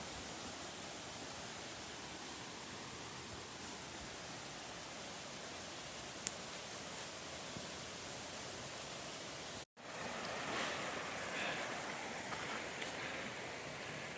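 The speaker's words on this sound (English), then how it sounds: "And you can hear the river in the background." Steady rushing roar of river rapids on the Upper Red River, a broad, constant wash of water noise heard close by with a brief cut partway through.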